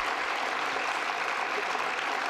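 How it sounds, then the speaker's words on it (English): A debate audience applauds a panel, steady, dense clapping that holds at an even level throughout, with no voices over it. "If you could just give a round of applause as well to our panel"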